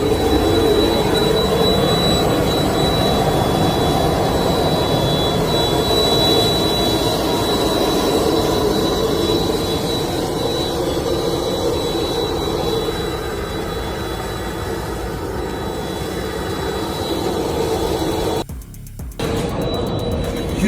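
A jet aircraft's engines roar loud and steady just after landing at an airport in Dubai, a continuous broadband whine with a high tonal note that eases slightly toward the end, with no talk over it.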